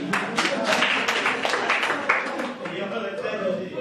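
Applause from an audience at a Hindi ghazal recital, a dense stream of claps that keeps a steady level for several seconds, with a voice talking over it.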